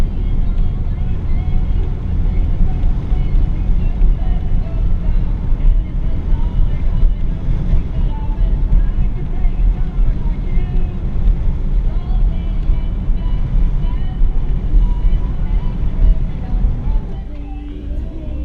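A 1959 Chevrolet Bel Air cruising along a park road, its engine and road rumble steady and loud beneath wind buffeting, easing off near the end.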